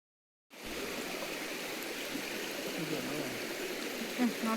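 A shallow, low-water stream flows at Kalikesam with a steady, close rushing babble that begins abruptly and stays even throughout.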